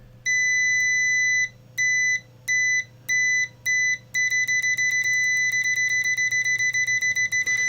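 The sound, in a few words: UNI-T multimeter continuity beep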